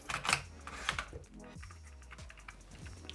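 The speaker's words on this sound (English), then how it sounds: "I'm tightening down that knob in the front here." A front locking knob on an Arca Swiss mount of a DJI Ronin RS3 Mini gimbal is tightened down, giving a few quick close plastic clicks and ratcheting ticks, sharpest near the start, with soft handling noise between them.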